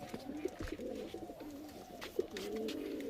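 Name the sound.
pigeons cooing in a loft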